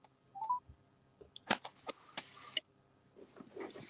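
A telephone number is dialed on a keypad, with a short tone early on followed by a quick irregular run of beeps and clicks, close and fairly quiet with no talking.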